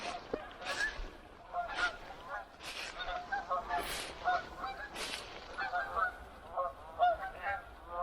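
Wild geese on remote public land honk in a steady, overlapping series of calls, moderately distant and fairly faint, with no talk over the flock.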